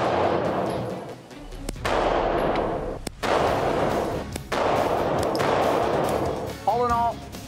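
A Corner Shot weapon fitted with a flashlight and laser fires four sharp, loud shots spaced a second or more apart over steady outdoor background noise.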